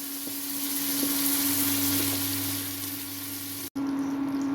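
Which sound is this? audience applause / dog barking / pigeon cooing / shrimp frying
shrimp frying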